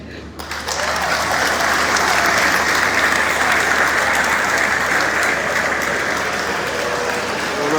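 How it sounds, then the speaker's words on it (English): Loud, sustained applause from the audience at a national Independence Day celebration program in Liberia, rising quickly at the start and continuing as a dense, even roar of clapping. "Wonderful hand of applause."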